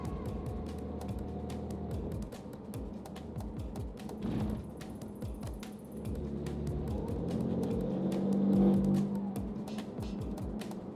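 A 2016 BMW M4 drives along on a road test checking alignment, steady engine and tire roar from inside the car with a faint rhythmic ticking, rising briefly louder partway through.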